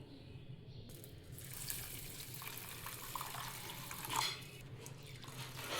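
Water pours over a mix of basmati rice, cashews and almonds being washed before soaking, a steady broadband splashing and trickle that swells briefly near the end, with no talk.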